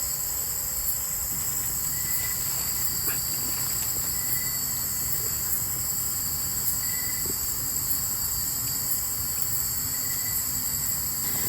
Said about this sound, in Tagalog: ang maririnig mo lang ay ang huni ng mga kuliglig.